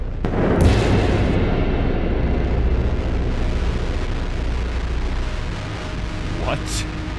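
A gunshot in the first-person puzzle shooter Children of the Sun: a sharp, booming crack near the start, then a long rumbling wash of game noise with a faint later pop.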